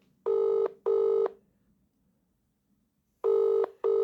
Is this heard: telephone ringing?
yes